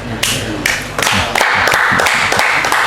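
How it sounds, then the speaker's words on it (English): Audience applause at a foundation announcement event comes in uneven bursts that build into steady, fairly loud clapping, with voices mixed in at the start. "I think you deserve applause."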